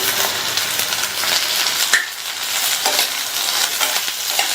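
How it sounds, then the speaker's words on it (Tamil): Sliced ivy gourd (kovakkai) with garlic stir-fries in a pan on high flame, a loud, continuous close-up sizzle broken by scattered scrapes and clinks of stirring, with no talking. "இந்த காயை ஹை ஃப்ளேம்லேயே வச்சு 2 to 3 நிமிஷத்துக்கு பக்கத்துலேயே இருந்து வதக்கிக்கங்க"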